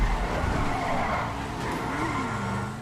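Tires skid and squeal as a car drifts through a GTA 5 Online race, with a steady, loud rush of tire noise and engine tone and wavering pitch sweeps running unbroken for about three seconds.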